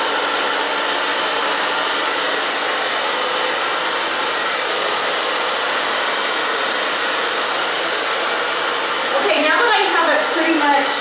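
A handheld hair dryer blows steadily and loudly on hair during a chunky bob styling session, a constant close roar filling the whole stretch with a brief change in airflow near the end.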